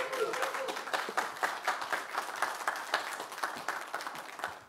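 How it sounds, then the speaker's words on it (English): A conference audience at an organic agriculture event claps in a dense, sustained burst of applause that fills the room, loud and close, and then thins out toward the end. "So again, please clap for Dr. Zejiang, Honorary President of IFOAM"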